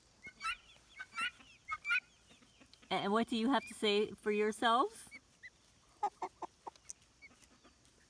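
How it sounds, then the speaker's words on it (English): Loud, harsh honking calls from guinea fowl in a rapid cluster, preceded and followed by a person talking nearby. "These are the guinea hens, guinea fowls they're called."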